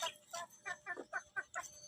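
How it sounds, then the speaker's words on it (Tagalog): Native chickens cluck in a quick series of short, close calls, about eight in under two seconds, with no voices. "Papakain ko sa aking mga lagang manok."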